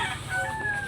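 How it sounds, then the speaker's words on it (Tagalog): Chickens cluck and crow nearby in a short, continuous burst of farmyard noise. "Puro manok"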